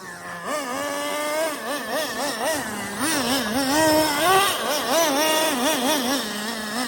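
Traxxas Slayer RC truck being driven, its small nitro engine revving in rapid wavering bursts, a high buzzing whine that rises and falls continuously, fairly close and loud.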